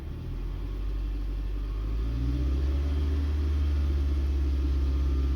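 Car engine revved in park with the brake on, a low steady rumble that swells slightly and holds at a higher idle, close and fairly quiet.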